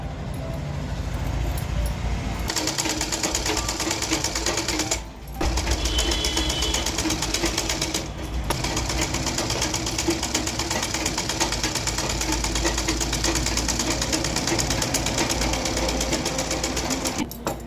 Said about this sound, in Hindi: जो गले का भाग है उस पर हम थोड़ा सा ऊपर की तरफ सिलाई चला देंगे